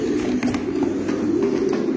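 Andalusian pigeons in a loft coo in a low, continuous rolling murmur, close and fairly loud, with faint rustling and movement above it and no talking.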